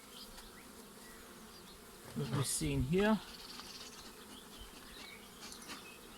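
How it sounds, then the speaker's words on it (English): Bees buzz around a hive housing a newly fed swarm, a steady low drone with insects flying close past, while someone speaks briefly over it. "Already full with bees."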